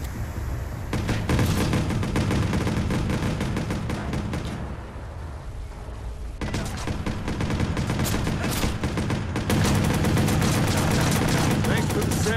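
Gunfire in the Watch Dogs video game comes in dense, loud rapid bursts that fill most of the stretch, dropping into a short quieter lull midway before resuming at full intensity.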